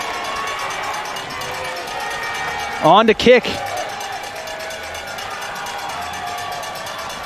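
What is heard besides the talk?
football crowd cheering before a field goal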